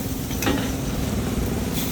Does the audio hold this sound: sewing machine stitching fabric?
no